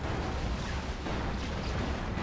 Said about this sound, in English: That's a Creeping Barrage, not a Rocket Run.